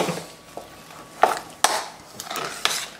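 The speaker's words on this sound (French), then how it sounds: "Voilà, on mélange le tout." Thick croquette mixture being stirred in a pan, giving a few scattered scraping and clinking strikes of utensil against the pot, moderately close, with quiet gaps between them.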